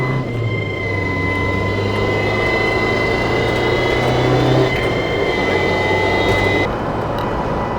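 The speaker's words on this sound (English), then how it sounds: "he's got the noisiest fuel pump ever" A very noisy fuel pump drones inside a Toyota AE86, a loud, steady mechanical hum with sustained tones filling the cabin, unbroken and close for the whole stretch.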